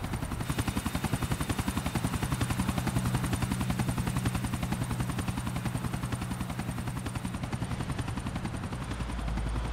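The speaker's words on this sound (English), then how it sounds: "We gotta follow this helicopter." Helicopter in Grand Theft Auto IV, its rotor thumping in a steady loud rapid rhythm close by, with engine whine throughout and no talking.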